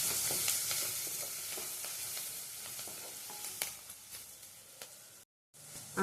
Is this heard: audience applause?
no